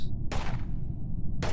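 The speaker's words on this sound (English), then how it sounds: "This is a cockroach that can fire bullets." A bullet-firing cockroach shooting in the video game Space Station 14: two sharp, loud shots about a second apart, each cutting off into a short decaying tail.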